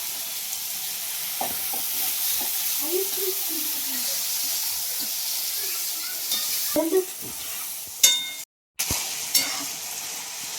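Food sizzles and crackles in hot oil with a steady hiss, occasional stirring clinks and brief murmured voices in the background.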